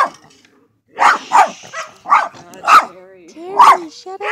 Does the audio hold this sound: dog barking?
yes